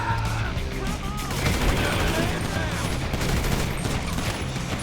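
Rapid gunfire in the Grand Theft Auto 5 video game, a dense, continuous burst of overlapping shots that stays loud for the whole stretch, with a voice faintly mixed in.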